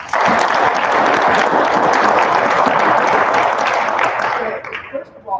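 A crowd applauds departing officers at a Greenhand ceremony, sustained dense clapping filling the room for several seconds before thinning out and fading near the end.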